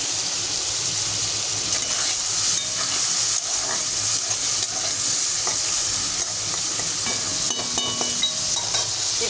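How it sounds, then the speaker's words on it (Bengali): Onion frying in a pan with a little salt, a continuous close sizzle and hiss with occasional stirring scrapes, steady and loud throughout, no voices. "আমি হালকা নুন দিয়েছি আমি পেঁয়াজটা ভাজা হওয়ার জন্য"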